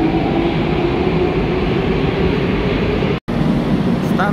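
A Moscow metro train at Minskaya station, on one of the newer lines with new rolling stock, gives off a loud, continuous rumble and roar close by, broken by a brief dropout near the end, with no talking.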